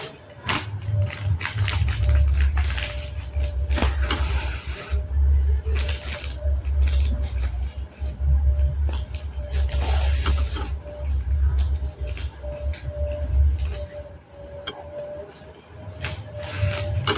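A sewing machine joins a belt onto a petticoat, running steadily with a dense mechanical whir and rapid needle clatter. It stays loud and close throughout, with only brief dips in its pace.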